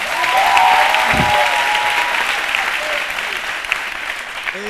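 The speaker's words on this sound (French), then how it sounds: "Applaudissez pour ça, s'il vous plaît." Sustained audience applause fills a French-language television studio show, dense and even clapping that carries on for several seconds and fades slightly toward the end.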